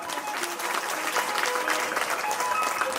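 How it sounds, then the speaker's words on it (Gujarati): An audience claps at a Ram Katha religious gathering in Gujarat, a sustained wash of hand claps from a crowd that holds steady for a few seconds. "તાળીઓમાં કંજૂસી નહીં ભાઈ."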